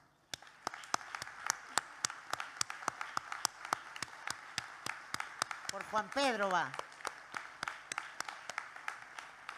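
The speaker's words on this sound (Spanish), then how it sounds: "quiero pedir para él el más cálido de los aplausos" A crowd at an international communist rally in Vallecas claps in a steady, evenly spaced rhythm, with a voice calling out briefly over the applause partway through.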